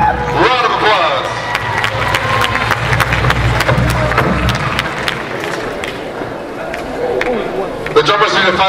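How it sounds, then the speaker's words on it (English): Audience at Heiva San Diego 2017 applauding young dancers, a steady wash of clapping and crowd noise with sharp claps sprinkled through, voices mixed in. "Round of applause for these young men, everybody"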